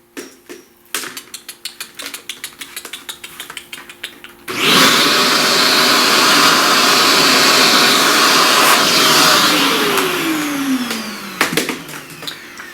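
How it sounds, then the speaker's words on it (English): After a run of scattered tapping and clicks, a vacuum cleaner starts up to clean pastel dust, roaring loud and steady for several seconds before its motor winds down with falling pitch, no voices. "Let's vacuum all that."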